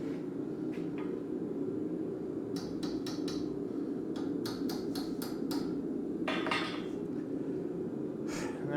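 Hot H13 steel struck with a hammer on an anvil while forging a dragon head: sharp metallic blows in short quick clusters, then single strikes, ringing over a steady roaring forge-like background.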